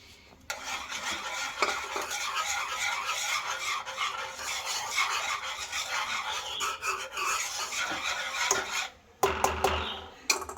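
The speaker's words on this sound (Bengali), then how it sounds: "এবারে আমি খুন্তি দিয়ে ভালো করে আরেকবার নাড়াচাড়া দিচ্ছি।" A spatula stirring a thickening mango pudding mixture in a pan, a dense continuous rasping scrape with brief pauses and a few clinks against the pan, close and loud.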